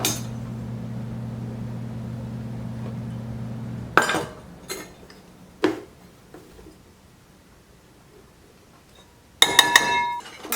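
A utensil clinks and taps against a bowl while flour is mixed with salt, cream of tartar and baking soda. A steady low hum comes first, then a few scattered knocks and a short cluster of bright clinks at the end.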